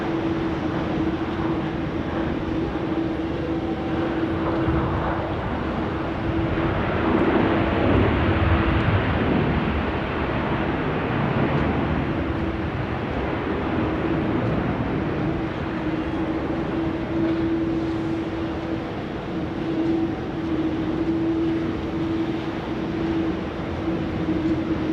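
An airliner landing at Sydney Airport on its second attempt: a steady, broad roar with a sustained droning tone, swelling slightly partway through and holding at a constant level.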